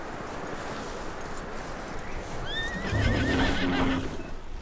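A horse in Red Dead Redemption 2 gives a clear, wavering whinny over a low ambient game bed, with a few soft hoof clops beneath it toward the end.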